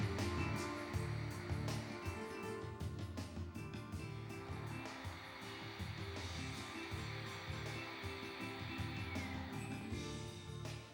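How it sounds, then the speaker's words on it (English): Ujjayi breathing gives a soft, continuous rasp from a constricted throat, a steady hiss of breath close and quiet throughout, with no speech. "The sound of ujjayi is in the throat."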